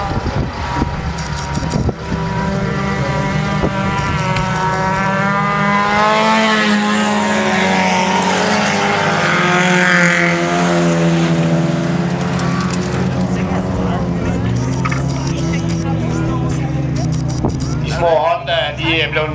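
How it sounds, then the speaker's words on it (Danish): Small race cars limited to 75 horsepower race around a track at Skærbæk, their engines whining and revving loudly and continuously while a commentator talks over them. "Bilerne må her max har 75 hestekræfter, og det er ikke tilladt at køre ind i hinanden."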